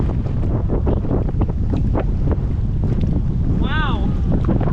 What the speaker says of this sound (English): the wind would just smack us